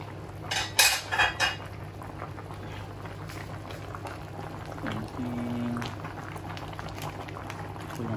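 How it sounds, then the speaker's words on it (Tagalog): A pot of crabs boils on the stove, a steady low bubbling backed by a constant hum, opening with a few sharp metallic clanks of a lid or utensils. "Kulo na."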